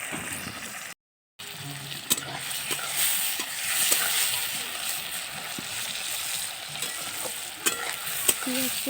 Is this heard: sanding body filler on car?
no